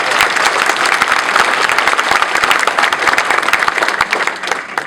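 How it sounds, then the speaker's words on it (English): Loud, close applause from an audience at a community gathering, a crisp, busy patter of many hands clapping steadily for about five seconds, with occasional sharper individual claps standing out. "I think we need to clap one more time."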